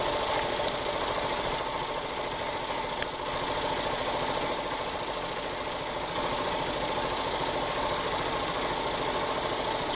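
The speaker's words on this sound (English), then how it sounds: "This is a fine running engine." A Jensen Model 50 engine runs steadily at an even idle, a continuous close mechanical hum with a faint rhythmic knock, alone without voices throughout.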